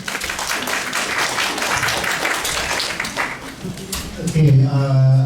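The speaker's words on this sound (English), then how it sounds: "let's give big applause for Mark" Conference audience applauding, a dense wash of many hands clapping at moderate distance for several seconds before it fades and a voice begins talking.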